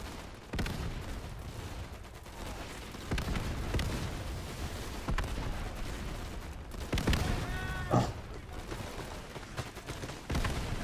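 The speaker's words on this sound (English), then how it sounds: "that's our artillery" Artillery fire in the World War II shooter game Easy Red 2, a dense battlefield roar of booming blasts and rattling gunfire, with several loud nearby impacts over constant rumbling background combat.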